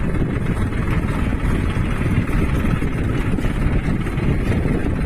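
A tractor's engine drones loud and steady while it is being ridden along a village road, a continuous rumbling roar mixed with buffeting wind across the microphone and no break throughout.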